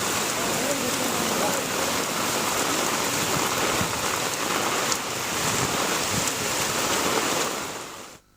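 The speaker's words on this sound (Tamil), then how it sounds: "பகுதியில் நள்ளிரவு தொடங்கிய பலத்த கனமழையானது தற்போது இடைவிடாமல் விடிய பெய்து வருகின்றது." Heavy rain pours without letup at night near a bus stand around the Thiruchendur temple area, a dense, loud, steady hiss that fills the whole stretch.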